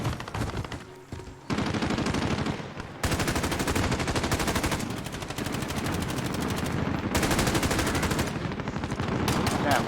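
Sustained automatic gunfire in a survival video game, rapid continuous bursts that run almost without pause, loud and close, with brief gaps as the shooting stops and restarts.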